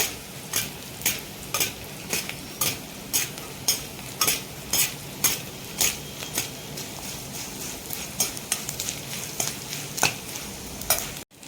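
Edible gum (dink) puffs and fries in hot oil as a spoon scrapes and stirs the pan in a regular rhythm, about one stroke per half second, over a steady close sizzle.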